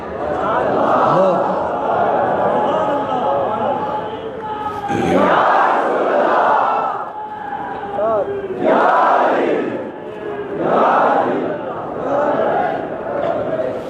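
A crowd at a religious gathering shouts a devotional slogan in loud, swelling bursts that recur every few seconds over a steady roar of voices.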